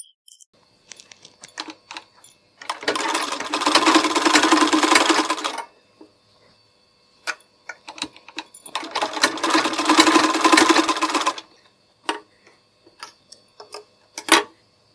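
A sewing machine stitches blouse pieces together in two steady runs of about three seconds each, separated by quiet handling clicks and small taps.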